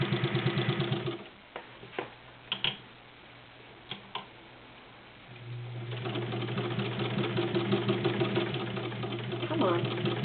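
A vintage Necchi BU heavy duty sewing machine stitches leather, first stopping and starting with sharp clicks and knocks, then running steadily with a loud, rhythmic mechanical hum and tapping.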